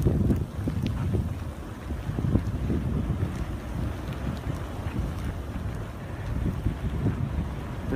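Strong blizzard wind roars steadily through a winter storm, with gusty low rumble and buffeting noise on the microphone throughout, close and loud with no voices.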